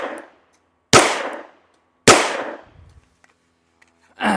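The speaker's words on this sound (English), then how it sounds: "Got a little bit undisciplined in my shooting." Two loud, sharp gunshots from an FN 510 Tactical pistol firing Federal ammunition, each ringing out and decaying for about half a second, with the start of a third at the end and no talking.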